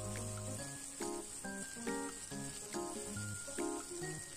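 Pieces of rohu fish fry in hot oil with a faint, steady high hiss and sizzle, sitting quietly beneath melodic background music.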